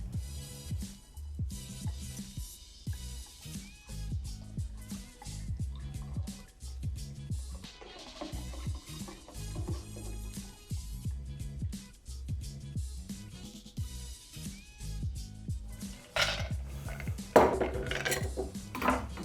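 A Manhattan cocktail is strained through a metal Hawthorne strainer, with rapid clinks and rattles of ice and metal against glass and a short louder clatter near the end.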